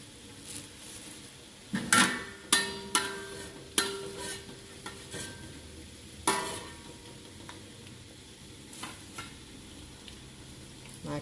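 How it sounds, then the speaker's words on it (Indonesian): Peanuts fry in hot oil, a constant sizzle broken by a few sharp clatters of a utensil stirring in the pan, close up and with no talk. "Kita goreng dulu semuanya ya. Karena nanti ini kan kacangnya perlu dikupas kulitnya gitu ya."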